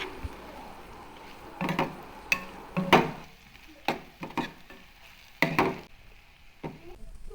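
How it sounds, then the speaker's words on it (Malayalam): Eggplant mezhukkupuratti is stirred in a pan as it cooks down, giving a string of sharp, close scraping strokes with quiet gaps between them and no talk. "ഇത് നന്നായി ഒന്ന് ഇളക്കി വറ്റിച്ചെടുക്കാം"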